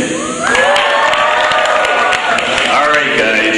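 A school crowd of seniors at a high school awards night cheers loudly for a yes vote, a burst of shouts, whoops and scattered clapping that swells after a brief lull and holds strong throughout.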